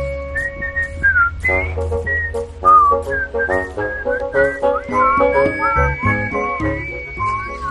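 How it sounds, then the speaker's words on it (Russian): Several people whistle a lively tune together, bright overlapping melodic lines with short pauses between phrases, close and clear, with no talking. "Давайте все свистеть."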